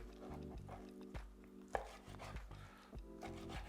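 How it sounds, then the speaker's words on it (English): A knife chops smaller lobster into bite-sized pieces for Cajun butter lobster scampi, quiet repeated taps on a board at a regular rhythm, with one sharper knock midway. "is just cutting the smaller lobster into bite-sized pieces so that we can have it swimming within our delicious scampi"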